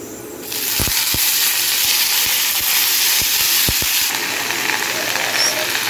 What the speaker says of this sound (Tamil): கருவேப்பிலை போட்டு கொஞ்சம் வதக்கிக்கலாம்